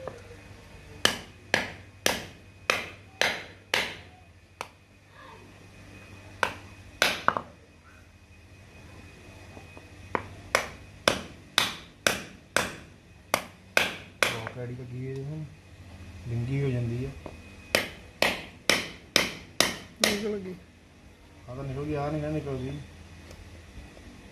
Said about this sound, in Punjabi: ਇਹਨੂੰ ਕੱਢਦੇ ਆ ਬਾਹਰ ਮੇਖਾਂ ਨੂੰ